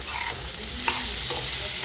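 Potatoes for aloo posto sizzling in a pan as they are stirred, a continuous close frying hiss with a spoon scrape and a brief clink partway through.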